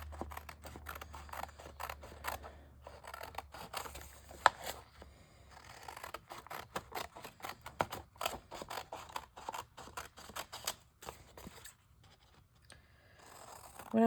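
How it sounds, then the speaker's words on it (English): Repeated crisp snips of scissors cutting thread, arriving in irregular bursts with small handling clicks and rustles in between. "I snip my threads and I put my scissors down"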